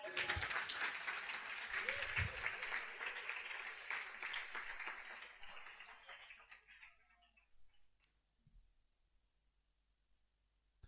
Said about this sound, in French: Offrez au Seigneur une puissante ovation d'applaudissements.